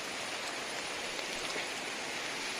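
Monsoon rain falls steadily in coastal Karnataka near a dug pond and channel, a dense, even hiss of downpour without pause, fairly faint and constant throughout.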